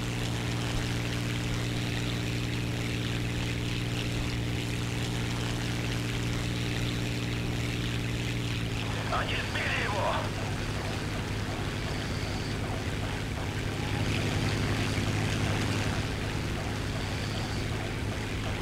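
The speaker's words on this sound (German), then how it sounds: "So, mein Motor ist leicht überhitzt." A slightly overheated propeller aircraft engine in the War Thunder game drones with a steady tonal hum that shifts partway through into a rougher, rattling roar, continuous and close.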